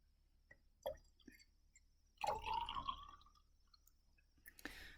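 Ammonia solution is poured into a small sample of metal ion solution, giving a short liquid gurgle and splash after a few faint glassy clinks, close and quiet in a still room.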